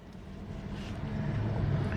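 Truck engine revving behind a car in traffic, a low droning rumble heard from inside the cabin that swells gradually louder over two seconds, muffled and steady with no talk.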